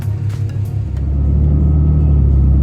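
A Hellcat crate engine in a car idles then swells into a steady, loud rumble as the vehicle pulls away, low droning throughout with no talking.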